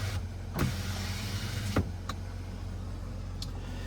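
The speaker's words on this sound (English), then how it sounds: "Now, the power slider in the back window." A pickup truck's power sliding rear window motor whirs for a few seconds close to the microphone, with a couple of clicks as it starts and stops.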